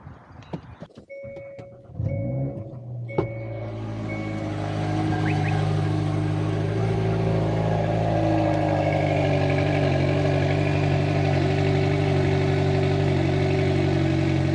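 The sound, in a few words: car engine cold start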